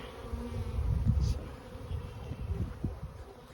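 Honey bees from a newly placed package buzz in and around a hive outdoors, a close, dense droning hum that swells and fades over a few seconds.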